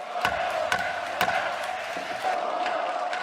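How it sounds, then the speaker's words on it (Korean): In the Korean National Assembly, after an amendment passes, members clap in scattered sharp strokes while opposing members shout, a noisy hall of overlapping raised voices with sporadic loud claps. "여당 의원들의 박수, 야당 의원들의 고성 속에"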